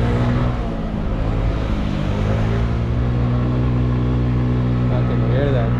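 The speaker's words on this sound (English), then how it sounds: "Because the Ruckus accelerates, it revs a whole lot faster when I take off now." A Honda Ruckus scooter with speed and acceleration upgrades hums close by, its engine droning steadily with a slight rise as it pulls away, under faint overlapping voices.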